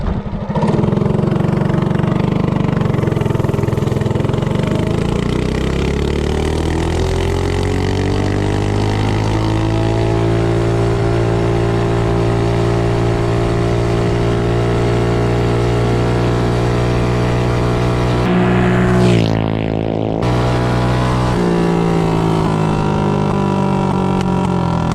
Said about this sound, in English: Top speed run, Duromax Bonanza bike with a VM22 car.